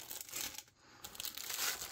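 Plastic bags crinkle faintly and close up as parts of a TAKOM M60A3 tank model kit with M9 bulldozer blade are pulled out, with uneven rustles and a brief pause midway.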